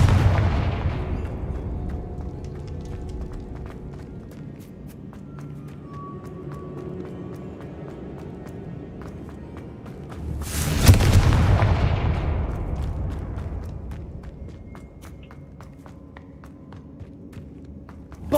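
Confringo spell blasts in Hogwarts Legacy: a booming impact fades into rumble early on, then a sharp, loud explosion bursts near eleven seconds and decays slowly, with scattered footsteps and small game sounds between.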